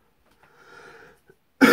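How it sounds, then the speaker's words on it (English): After a faint, muffled hum, a sudden loud cough bursts out close by and cuts off abruptly. "I've got a bit of a cough today."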